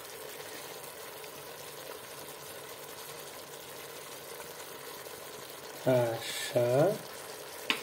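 Garlic frying in a pan for a Romanian chicken dish, a steady faint sizzle that runs throughout, with someone briefly speaking near the end.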